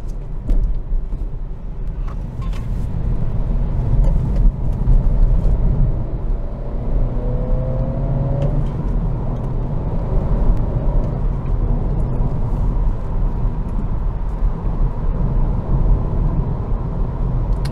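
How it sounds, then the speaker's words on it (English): A 2023 Acura Integra A-Spec with a manual gearbox cruising at highway speed, its cabin filled with a steady low road rumble and tire whir that holds loud and even throughout, with no talk. "I also feel like the road noise in here is noticeably less than the Civic"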